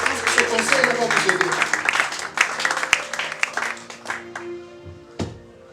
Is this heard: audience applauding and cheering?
yes